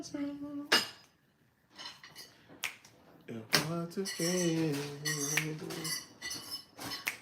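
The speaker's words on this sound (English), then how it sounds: "really hate these plates. I hate the sound that they make. Yeah, they're ceramic." Ceramic plates clink sharply against each other and against cutlery in scattered bursts, with one scrape, alongside voiced sounds that resemble talk.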